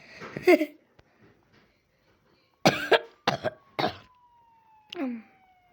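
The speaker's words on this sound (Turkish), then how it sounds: "Çok öksürüyorum." Several harsh, close coughs in a quick cluster, preceded by one earlier cough, with a faint siren-like tone gliding in the background.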